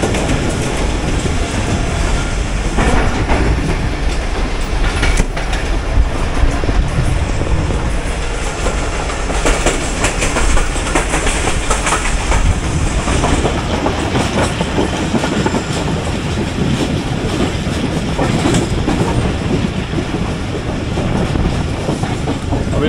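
Shalimar Express passenger train runs steadily on the rails, with a continuous loud rumble and clickety-clack wheel beats throughout and no talking.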